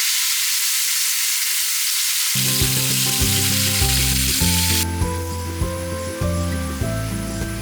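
Meat sizzles loudly in a pan after water is poured in, a dense, continuous hiss that stays strong for several seconds while a musical backing plays underneath.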